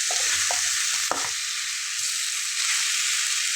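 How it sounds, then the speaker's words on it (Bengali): Masoor dal and taro stir-fried dry in a pan make a steady loud sizzle and hiss, with a few scraping stirs of the spoon near the start, close and alone with no voices. "অর্থাৎ খুব ভালোভাবে একটু ভাজা ভাজা করে কষিয়ে নিতে হবে।"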